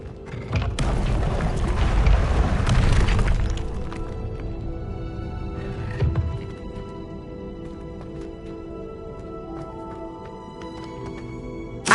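A Confringo spell detonates in the Hogwarts Legacy video game with a heavy booming blast that rumbles for a few seconds, then fades into a quieter background hum with faint scattered clicks.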